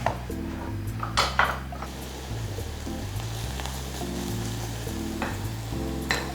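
Chopped onions frying in a pot for an egg curry, a steady sizzle with scattered clinks and scrapes of a utensil stirring against the pot, close and moderately loud, with no talking.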